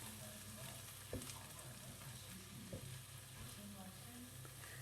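Chopped onions sautéing in a pan with a very little oil until golden, a soft, steady sizzle broken by a few sharp clacks of a utensil stirring, with no voices.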